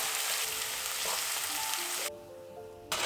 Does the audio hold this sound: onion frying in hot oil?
yes